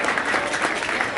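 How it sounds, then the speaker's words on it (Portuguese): Audience at a street rap battle clapping steadily in a dense, loud burst of applause that fills the whole moment. "Palmas, viu? Pode ficar à vontade."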